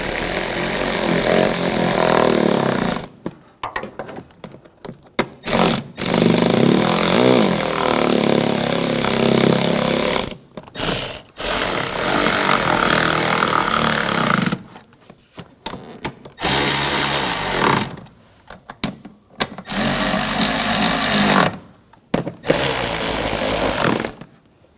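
A cordless power driver snugs down the cabin air filter cover screws on a 2009-2013 BMW 328i xDrive, giving several loud whirring bursts of a few seconds each, separated by short silent pauses.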